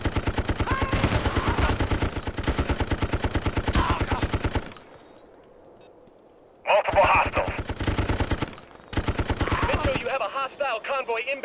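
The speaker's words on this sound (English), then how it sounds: "I got the machine gun, Captain." Machine gun fire in Ghost Recon Advanced Warfighter on PS2, loud rapid bursts that cut out to a quiet gap, then resume in shorter volleys with radio-style voices and game effects mixed in.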